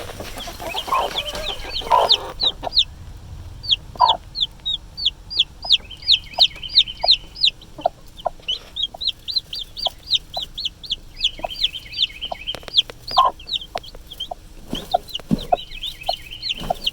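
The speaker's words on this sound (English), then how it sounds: "sure enough, we got some baby chicks" A broody hen on a homestead clucks low and steady while her newly hatched baby chicks peep in high, rapid chirps close by. The sound goes on without a break.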